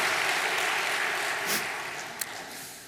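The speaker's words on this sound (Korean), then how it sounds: "우리 오근영 교구장님과 또 유순영 사모님께 감사의 박수를 다시 한번 올려주시면" Applause from a church congregation at a Sunday worship service, a steady broad wash of clapping that slowly fades, with a few sharper claps near the end.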